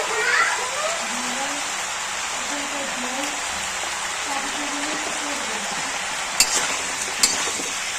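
Eggplant and spinach are stirred with turmeric in a pan for a Bengali chorchori, a steady close sizzle and hiss with a couple of sharp utensil clicks near the end and faint voices in the background.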